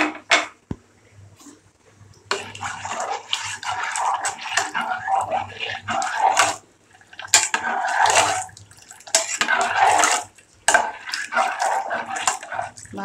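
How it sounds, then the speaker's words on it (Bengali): Milk poured into a cooking pot while making Bangladeshi semai, a wet, splashing pour that comes in several bursts with short pauses, alongside faint clinks of kitchenware. "1 কাপ দিচ্ছি দুধ।"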